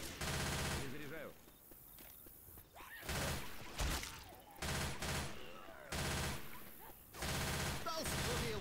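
Bursts of rapid automatic gunfire in the video game Left 4 Dead 2 come in several volleys separated by short pauses, loud and close, with fainter shots and clatter between.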